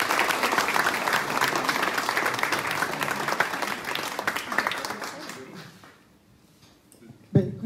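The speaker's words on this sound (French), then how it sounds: "vous pouvez l'applaudir parce que c'est vraiment un artiste" Audience applause at a library art exhibition opening in Yerres, a dense wash of clapping that holds steady for about five seconds, then thins and fades out, followed by a brief sharp knock near the end.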